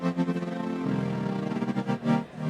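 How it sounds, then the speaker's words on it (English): A polyphonic synth on the OXI One sequencer plays a chord progression with the filter cutoff swept by LFOs. Sustained chords swell and pulse rhythmically, with one chord change partway through and no talk. "What you hear is a chord progression where the filter cutoff is being modulated by the LFOs."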